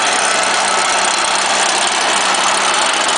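A Stihl small engine runs at a high idle just after a cold start, giving a loud, steady, close-up drone with no pauses for the whole stretch.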